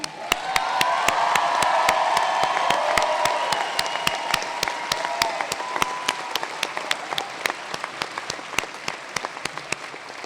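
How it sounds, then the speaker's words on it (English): A crowd applauds at a 2019 university convocation ceremony, a loud, dense roll of clapping that gradually thins out, with sharp regular clicks running through it. "One more round of applause."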